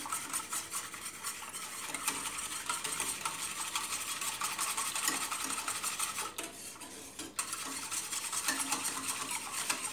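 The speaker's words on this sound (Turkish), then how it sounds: "Evet, hızlı hızlı karıştırmamız gerekiyor kapaklanmaması için." A spoon stirring quinoa diet pudding quickly in a pot, a continuous scraping, swishing rhythm heard close and fairly faint, with brief pauses but no talk.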